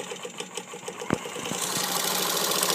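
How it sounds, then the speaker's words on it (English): A Singer 15-75 sewing machine stitches through eight layers of fabric, a rapid rhythmic mechanical chatter whose speed varies, with a brief louder clunk partway before the run smooths into a denser, faster whir. "I'm varying the speed so you can see how it works. And you see, like I say, it's eight layers, and it's not a problem for this machine at all."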